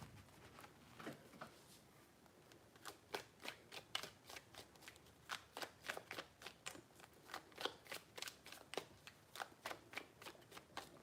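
Tarot cards shuffled by hand, a long run of crisp riffling bursts in quick irregular rhythm, close and fairly quiet, with no talking.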